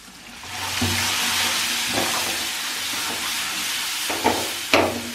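Hot oil hisses and sizzles loudly in a pan as tempering is added to mixed dal, a broad steady frying roar with a few sharper crackling spurts near the end, no voices.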